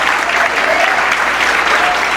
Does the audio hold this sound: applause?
yes